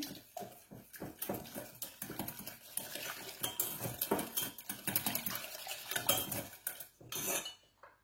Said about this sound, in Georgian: ამ ყველაფერს კარგად გადავურევ ერთმანეთში